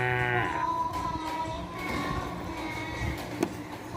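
A water buffalo's moo rings out at the start, followed by other livestock calls and a busy outdoor background.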